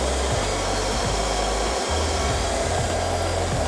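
An iLife V5 robotic vacuum runs steadily while cleaning on top of a table, a loud continuous whir with a low motor hum that shifts pitch slightly, alone without talk.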